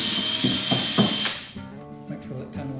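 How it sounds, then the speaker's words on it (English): A power drill whirs loudly for over a second, bites through wood, then winds down, leaving a few clunks and handling noises. "and just drill a hole."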